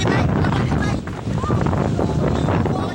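Strong wind roars continuously against the microphone in Digos City, Davao del Sur, during a storm that damaged houses, a loud, steady buffeting rush with a voice faintly underneath.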